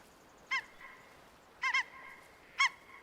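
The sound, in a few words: wild ducks calling and flushing in Way of the Hunter video game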